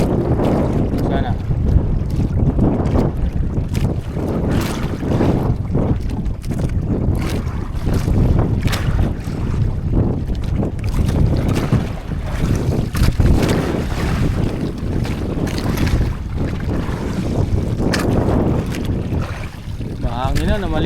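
Strong wind gusts buffet the microphone while rough sea water churns and slaps around a moving fishing boat in Bicol, loud and continuous, with faint voices underneath.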